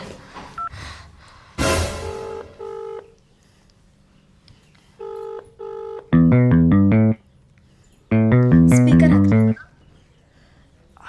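Electronic phone tones play in short bursts: a few single beeps, then two longer runs of rapid, stacked melodic tones, fairly loud with quiet gaps between.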